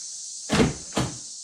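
A shaved door handle popper on a third-generation Camaro fires twice in quick succession, two sharp mechanical clunks of the door latch releasing, close and loud over a faint steady hiss.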